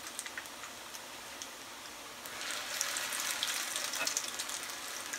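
Potato latkes sizzle in a pan of coconut and other oils, a steady soft crackle and hiss with scattered pops that grows slightly busier midway, heard without talk.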